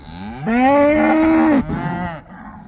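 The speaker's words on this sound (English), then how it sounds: "Who's the lead cow this year?" A cow in a herd of cattle in a muddy spring field gives one loud, long, close moo lasting about a second, followed by a softer trailing moo, with no talk.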